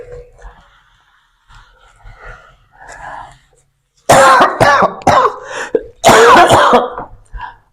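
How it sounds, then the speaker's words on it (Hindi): A person coughs repeatedly in loud, harsh bursts close by, following quieter muffled throat sounds and soft breathing. "आप देख रहे हैं मुझे मुसलसल खांसी भी हो रही है।"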